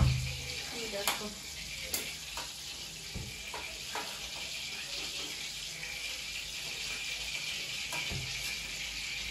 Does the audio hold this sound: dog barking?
no